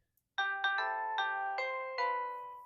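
A Nest Doorbell playing its Happy Birthday chime theme: six bright electronic bell notes tapping out the familiar tune, each ringing over the last, clear and alone.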